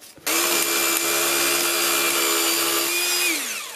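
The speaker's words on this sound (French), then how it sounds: "Tu mets ta grignoteuse dedans." A power nibbler cuts on a new-house painting job site, starting abruptly into a loud, steady whining motor drone that holds for several seconds and then winds down.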